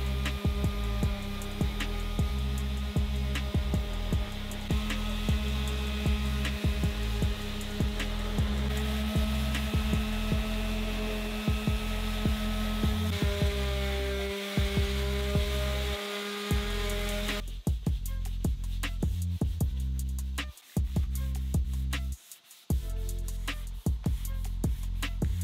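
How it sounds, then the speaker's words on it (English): A power sander smooths cut lumber pieces to 220 grit for a jewelry stand, a continuous loud whirring hum with brief interruptions and shifts in pitch as the sander moves. "we are going to go ahead and sand her up to 220"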